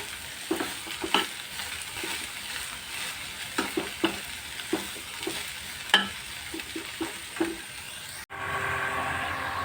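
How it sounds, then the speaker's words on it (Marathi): Okra (bhendi) with kokum stir-fried in a pan: repeated spatula scrapes and stirring knocks over a soft sizzle, then an abrupt shift to a louder, steady sizzle. "ही भेंडी छान भाजून झाली"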